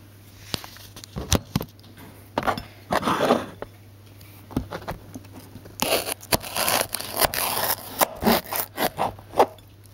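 A thick stalk of celery cut through the middle for a young rabbit's feed, giving short crunchy snaps and fibrous tearing scrapes that come in uneven bursts, close up, with no talking.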